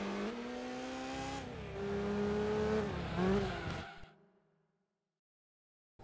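In Gran Turismo 2, a racing car's engine revs and climbs through the gears on a manual gearbox, loud and close with a brief squeal, then fades quickly into silence.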